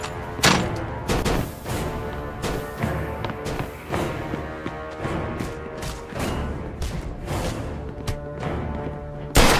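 Sustained gunfire in the video game Mafia II, repeated sharp shots spread through nearly ten seconds over a constant roaring background, loud and busy without clear pauses.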